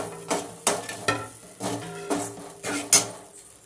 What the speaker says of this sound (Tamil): நல்லா வதக்கிட்டே இருக்காங்க.